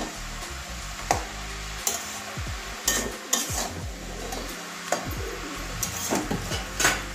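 Cabbage being stir-fried with katla fish head in a pan, close and steady: a soft sizzle underneath and repeated scraping and clinking of a spatula against the pan in an uneven rhythm, no voices.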